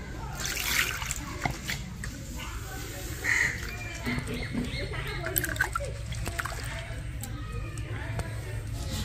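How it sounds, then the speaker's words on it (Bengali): Sago pearls are rinsed in water. Splashing and trickling run continuously under the clip, up close and moderately loud, with a few brief clinks. "সাবুটা আমি ভালো করে জল দিয়ে ধুয়ে নিয়েছি।"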